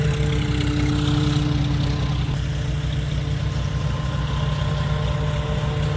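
A heavy tractor engine drones steadily at a low rumble without pause while harvesting green groundnuts, loud and close, with a constant mechanical hum.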